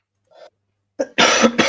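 A person on an online debate call coughs several times: a faint short throat sound, then a sharp cough followed by a louder, raspy burst of two coughs, close to the microphone with no speech.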